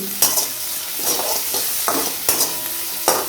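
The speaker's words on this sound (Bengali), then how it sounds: "একটুখানি ভাজা ভাজা করে নেব, একদম লাল হয়ে যাওয়ার দরকার নেই" Slit green chilies and chopped onion with a little salt fry in hot oil in a wok: a bright, steady sizzle broken by about six loud scraping stir strokes, with no talking.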